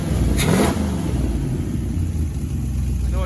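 A car engine with a newly corrected HEI distributor idles and revs with a rough, throaty exhaust rumble, steady and close, with a brief higher whine near the start.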